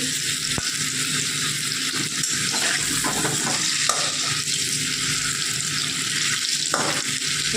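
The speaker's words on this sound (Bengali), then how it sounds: "এই যে দেখো এখানে আলু ভাজতে বসিয়েছি মাংসের আলুগুলোকে একটু লাল লাল করে ভেজে নিচ্ছি" Potatoes for a meat curry frying in oil in a pan, giving a loud, steady, close sizzle with a few stirring scrapes throughout.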